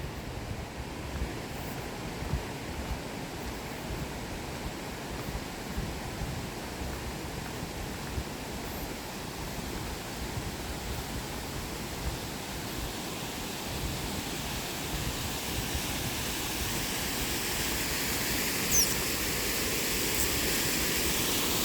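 A waterfall heard outdoors on a nature walk as a steady, broad rushing roar of water, even and fairly close, growing slightly louder toward the end, with no talking.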